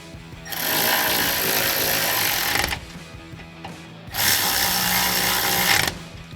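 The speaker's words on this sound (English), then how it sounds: "grab a 10mm socket, tighten it down, and do the same thing on the back" A power tool with a 10mm socket runs in two sustained bursts of harsh whirring and rattling while tightening bolts on power running boards of a 2019–2024 Ram 1500, close and loud, separated by brief clanks.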